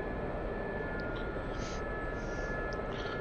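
Gazelle helicopter engine and rotor in DCS holding a steady hover, a continuous loud broadband turbine roar with a constant high whine throughout.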